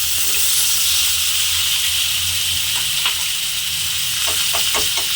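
Washed raw rice and cut potato pieces fry in a hot pan, a steady, close, loud sizzling hiss that runs throughout, with a few scraping stirring strokes toward the end.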